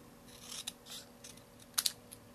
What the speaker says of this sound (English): And now for my pie tin, I am going to just cut at an upwards, kind of at an angle.